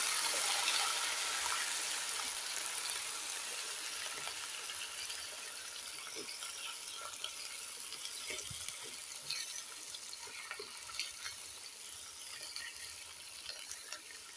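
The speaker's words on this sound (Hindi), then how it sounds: "देखिए 30-40 सेकंड हो गए और सिजल हो रहा है आसपास" A steady, faint hiss of oil sizzling in a pan while frying for chicken korma, continuous and even with small scattered pops, no voices over it.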